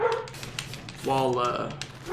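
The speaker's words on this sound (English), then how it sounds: "apologies for the dog as always" A dog barks and yips nearby, short sharp bursts mixed with whimpering, heard over someone talking during gameplay.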